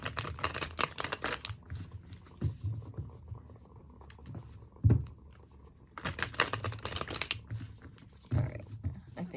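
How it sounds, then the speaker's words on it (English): Playing cards being shuffled by hand, two bursts of riffling and crisp flapping separated by a quieter pause, close and fairly loud with no talk. "I'm gonna give that another good shuffle"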